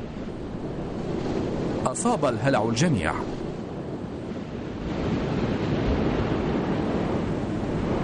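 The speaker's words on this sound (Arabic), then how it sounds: "والآن تعصف الرياح" Stormy wind roars and sea waves crash around a boat at sea, a heavy continuous rumble and wash that swells midway, with a voice speaking briefly over it.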